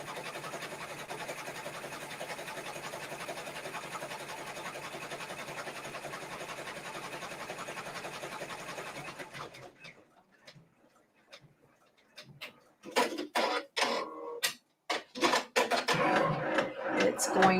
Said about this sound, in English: It's going to sew the placement stitches now for the grill.